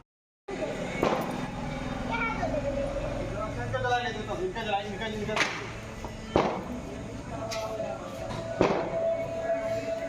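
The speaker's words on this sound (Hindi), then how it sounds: "सब लोग यहाँ पे गाइस पटाखे जला रहे हैं" Firecrackers pop outside during Diwali every couple of seconds, sharp distant bangs over steady background chatter and street noise.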